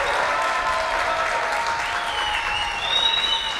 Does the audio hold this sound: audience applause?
yes